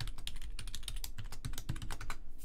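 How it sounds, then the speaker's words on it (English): A password is typed quickly on a computer keyboard, a dense run of rapid, uneven key clicks close by with no one talking. "Trying to type my password too fast."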